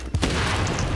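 A sudden heavy explosion in The Division, a deep booming blast that hits after a brief lull and then rolls on as a loud, sustained rumble to the end.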